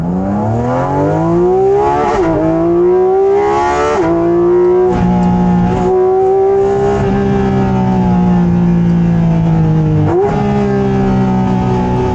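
A Porsche Cayman GT4RS engine heard from the cabin, revving hard through repeated climbs and gear shifts, the tone rising and dropping back with each shift, loud and continuous with airbox intake resonance.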